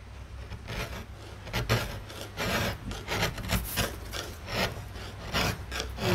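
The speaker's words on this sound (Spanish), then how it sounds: "Uno va tallando, tallando y tallando." Gouges cutting a woodcut printmaking block, a steady close scraping and rasping of steel against wood in repeated short strokes, continuous and moderately quiet.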